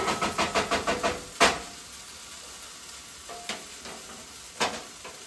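Onions frying in a pan give a soft, steady sizzle, opening with a quick run of rhythmic stirring scrapes, then a few sharp clinks against the pan spaced through the rest.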